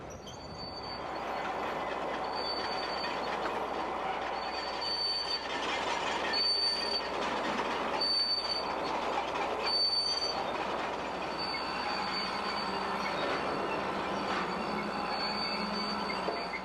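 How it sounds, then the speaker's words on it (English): BNSF freight train rolling west through a busy junction at Dotsero, Colorado, on the old Tennessee Pass main line, a loud continuous rumble of wheels and cars with repeated high-pitched wheel squeals recurring every couple of seconds. "After the BNSF train gets a green signal, it heads west at this busy junction"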